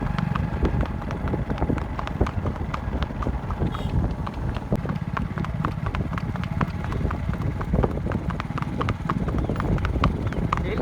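A Kathiyawadi mare trotting at a revaal gait, her hooves clip-clopping in a quick, even rhythm close by over light wind noise.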